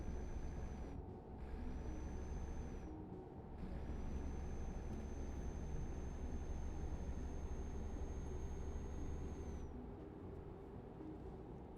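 Truck air brakes hiss in Euro Truck Simulator 2, a steady pneumatic rush over a low engine drone lasting most of the stretch, with brief dips and a thin high whine running alongside.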